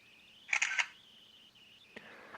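A Sony Ericsson W550i mobile phone fires its camera shutter sound, a bright, close electronic burst, followed about a second later by a single short click over a faint steady tone.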